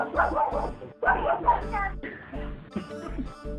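A run of short, repeated dog-like barks and yips in uneven bursts, close and fairly loud, imitated by a raven rather than a real dog.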